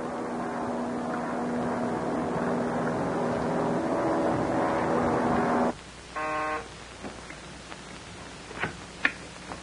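A propeller-driven Marine airplane drones steadily in flight, a loud, even engine hum with a strong low tone that cuts off abruptly partway through, leaving quieter sounds.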